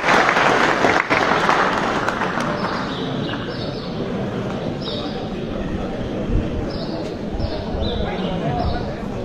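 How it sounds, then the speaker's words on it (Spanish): Crowd applauding at a federation assembly for its president, a sustained wash of clapping mixed with crowd noise and some speech-like voices throughout. "Un aplauso para nuestro hermano el presidente de la Federación."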